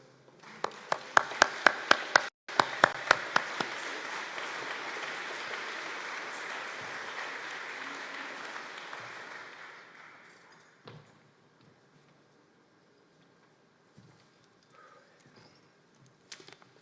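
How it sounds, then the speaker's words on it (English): Audience applause at an outdoor ceremony unveiling the design for Canada's Afghan war monument, a few sharp nearby claps at first, then a sustained round that fades out, leaving quiet with sparse distant sounds. "And perhaps a round of applause as he comes up."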